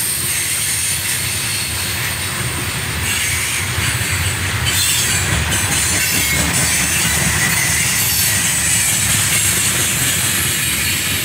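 A freight train rumbles past continuously, steady loud rolling noise with screeching wheels and hissing, no voices.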